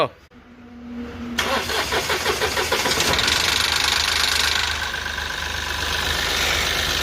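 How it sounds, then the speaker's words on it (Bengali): A Mahindra Bolero engine is cranked and starts after its engine oil was drained. A short starter whir catches into a loud, rough, rattling idle that settles into a steady running drone, with a voice faintly present. "এইবার আমরা গাড়ি ইঞ্জিন স্টার্ট করব।"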